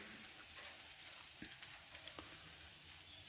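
Bacon and an egg fry on a flat iron griddle with a faint, steady sizzle and a few soft pops and clicks, and no voices.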